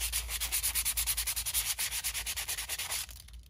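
Sandpaper rubs rapidly back and forth over a playing card in quick rhythmic strokes, close and steady for about three seconds before easing off, with no voices.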